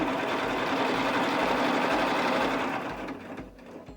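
A sewing machine runs steadily, stitching a pillow with back stitches at the corners. The close, continuous mechanical whir holds even for several seconds, then eases and slows toward the end, with no voices.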